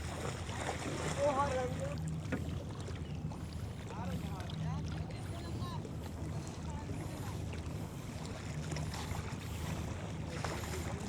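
A fishing trawler on a river near a remote Barisal char, its engine a steady low drone under wind and water noise for the whole stretch, with faint voices now and then.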